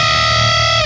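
One loud, distorted electric guitar chord with a grating, dissonant edge holds steady for under a second before being choked off.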